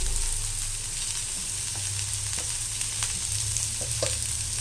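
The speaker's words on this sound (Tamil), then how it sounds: "இப்போ வெங்காயம் நல்லா வதங்கிடுச்சு இதிலே வந்து நம்ம தக்காளி போட்டுக்கலாம்" Onions and tomatoes sizzle steadily in a hot pan with occasional stirring scrapes and small pops, a continuous close frying hiss with no voices.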